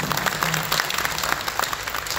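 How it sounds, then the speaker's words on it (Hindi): An audience at a weekly Arya Samaj satsang claps together in a short, dense burst of applause. "जब तालियां बजाओ ना मिलकर ढंग से बजाओ"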